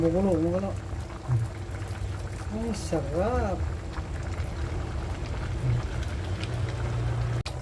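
A pot of vegetable stew with shrimp and coconut milk bubbles and simmers steadily in a noisy background, and a voice speaks briefly over it.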